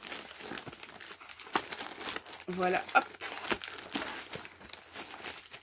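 Plastic wrapping is pulled off a monthly subscription box, with close crinkling and tearing in repeated bursts while someone speaks briefly over it.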